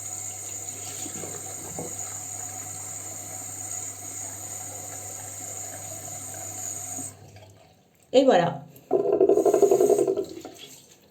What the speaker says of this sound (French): vous m'excusez pour le bruit, c'est mon lavabo